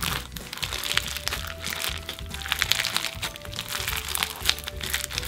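Crunchy clear slime packed with glitter is squeezed and kneaded by hand, giving dense, close crackling and crinkling pops in quick irregular bursts.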